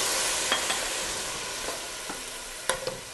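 White wine splashes into a pan of simmering sauce for spaghetti, producing a steady, soft hiss of bubbling liquid with a few sharp utensil clicks and stirring taps, close and fairly quiet.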